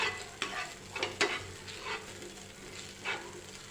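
A spatula scrapes and stirs pav bhaji vegetables in butter in a pan, street-cart style, giving a few sharp clatters over a soft, steady sizzle with no talking.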